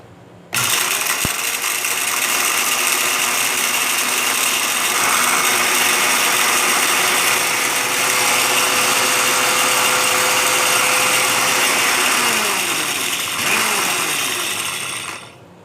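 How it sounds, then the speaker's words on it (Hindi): An electric grinder whirs steadily and loudly for about fourteen seconds, grinding fried whole spices for a chicken curry, with a high mechanical whine and grainy rattle throughout before it winds down. "ये जो खड़े मसाले हमने फ्राई किए हैं, अब इनको करते हैं जी हम ग्राइंड।"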